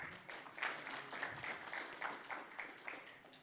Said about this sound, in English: Let us give him a proper round of applause.